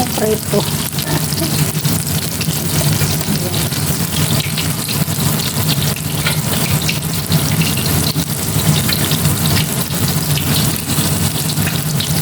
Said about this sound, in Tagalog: Dinig niyo yung tunog ng preto.